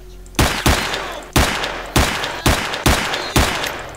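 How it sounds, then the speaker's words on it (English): Enemy shotgun blasts from a S.T.A.L.K.E.R.: Shadow of Chernobyl firefight ring out one after another, seven or eight loud, sharp booms at a steady, fairly quick rhythm, each followed by a short decaying tail. "Oh, no! He's got a shotgun!"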